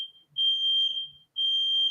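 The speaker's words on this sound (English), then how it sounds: "The smoke detector's going off." A smoke detector alarm goes off indoors, sounding two long, piercing, high-pitched tones separated by a brief gap, loud and alone.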